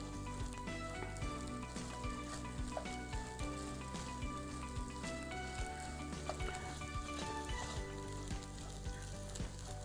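Carrots and rice fry slowly in a pan, giving a steady, dense sizzle with faint crackles and occasional stirring clicks, continuous and fairly close with no talk.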